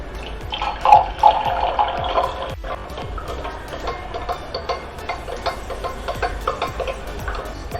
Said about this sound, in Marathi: आणि ह्याच्यामध्ये गार पाणी घालायचं